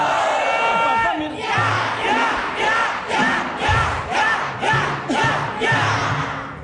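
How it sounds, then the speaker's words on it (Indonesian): A studio audience at a TV talk show celebrating the Indonesian National Armed Forces anniversary cheers in loud, rhythmic bursts of shouting. Roughly eight chant-like pulses repeat in steady succession. "Tepuk tangan sekali lagi"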